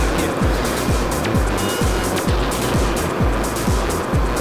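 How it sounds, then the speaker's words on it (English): A car drives along a flat desert road with a steady, loud roar of engine and tyres. Rhythmic thumps come at about one per half second, as if from regular joints or bumps in the road surface. "there's a car coming out now"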